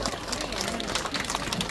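Audience applause welcoming a traditional Korean folk singer on stage at a neighbourhood festival, dense crowd clapping steady and full, with a voice speaking faintly underneath.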